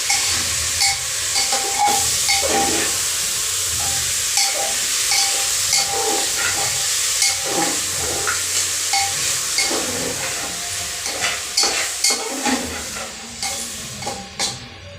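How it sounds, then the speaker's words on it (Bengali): Meat frying in a hot, spiced pan gives a loud, steady steamy hiss and sizzle, broken by regular clicking and scraping from stirring throughout. "এবার আমি মাংসটাকে দিয়ে দেবো। ভালো করে নাড়াচাড়া করবো।"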